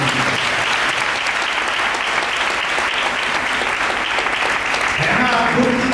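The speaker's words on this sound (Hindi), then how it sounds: "ताली बजाकर बहुत धन्यवाद।" An audience at a book talk event bursts into dense, continuous applause that stays loud and full for several seconds. A low voice murmurs faintly near the end.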